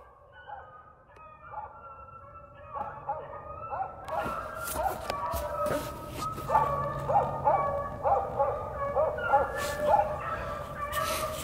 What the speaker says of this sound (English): I see the dogs over there,